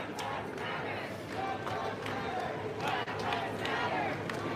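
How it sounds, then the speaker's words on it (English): A large protest crowd on a city street, a dense, continuous wash of many voices, shouts and chatter, moderately distant and steady throughout. "This is literally a never-ending crowd."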